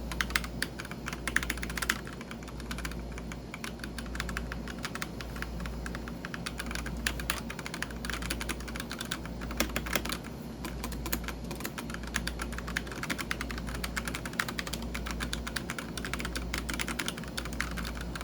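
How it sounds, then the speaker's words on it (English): A HyperX Alloy Elite 2 mechanical gaming keyboard with red linear switches is typed on quickly and continuously. The soft, muted clacks come close and steady over a low background hum. "a little bit of demonstration of me tapping the keyboard, and you guys can hear how soft it sounds"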